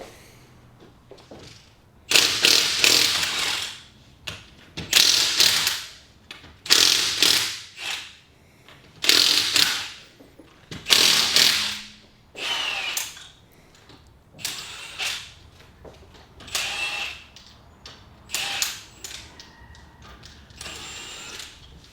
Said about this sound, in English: that's a handheld battery drill that did that